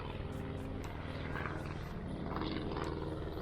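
A plane passing near Cape May, a steady low propeller drone with a faint rhythmic pulsing, heard fairly quietly as distant background with no talking.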